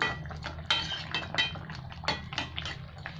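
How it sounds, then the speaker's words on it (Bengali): A metal lid lifts off a pot of Bengali fish curry with potato and eggplant, giving several close, sharp clinks and clatters over a low steady hum from the kitchen. "এবার আমি ঢাকাটা খুলে দেখছি"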